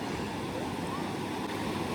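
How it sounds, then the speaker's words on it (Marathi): Strong wind at Anjarle beach on the Konkan coast, a constant roaring rush of gusts buffeting the microphone, blended with distant surf, loud and unbroken. "अरे वारा खूप आहे"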